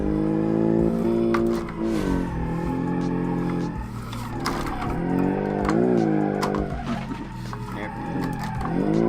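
Twin-turbo Subaru Galway RRT in the BeamNG driving game, engine droning and revving loudly and continuously with tire squeal as it drifts, voice talking over it.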